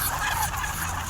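Hungry ducks call noisily around feeding time, a busy, overlapping chorus of quacks and chatter up close, with no voices over it.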